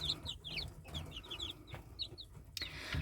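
A Silkie chick's rapid high-pitched peeping chirps repeat in quick bursts, with a soft clucking underneath and a brief knock near the end.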